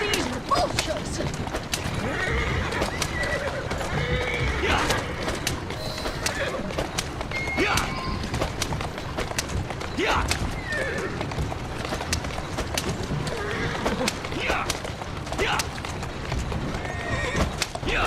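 In the video game Assassin's Creed Syndicate, a horse whinnies and neighs repeatedly while its hooves clip-clop steadily underneath, with character voices talking over parts of it.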